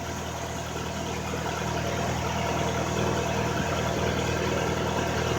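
A car motor running smoothly after an injector cleaning, a steady, even idle hum that stays constant and moderately loud throughout.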